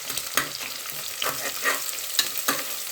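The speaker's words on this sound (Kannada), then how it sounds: "ಇವಾಗ ಈರುಳ್ಳಿನ ಬ್ರೌನ್ ಕಲರ್ ಬರೋವರೆಗೂ ಎಣ್ಣೆಯಲ್ಲಿ ಈ ಥರ ಚೆನ್ನಾಗಿ ಹುರ್ಕೋಬೇಕು" Sliced onions fry in oil until brown for vegetable pulao, a close, lively sizzle swelling with rhythmic stirring strokes roughly every half second; no voices.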